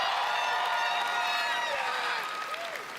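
A large E3 audience roars with applause, whistles and cheers for the reveal trailer of a Zelda game, Twilight Princess. The dense crowd noise holds steady throughout, with some tonal sounds rising faintly over it.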